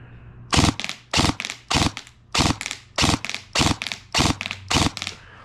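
A G&G TGM R5 ETU MP5 airsoft gun fires about ten rapid bursts in quick succession, each a tight cluster of sharp, loud cracks close to the listener with brief pauses between.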